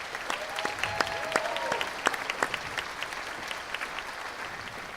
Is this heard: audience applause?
yes